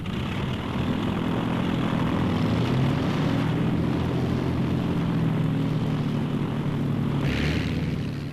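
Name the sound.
training aircraft flying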